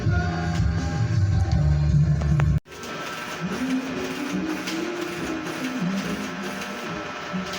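A Canon inkjet printer with a refilled black ink tank runs a test print, its whirring feed motor and carriage humming steadily and close, after an abrupt cut from earlier mechanical noise.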